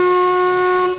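Steam locomotive 477 013 "Papagáj", a three-cylinder engine, sounds its whistle in one loud, steady, sustained blast lasting about a second before it cuts off.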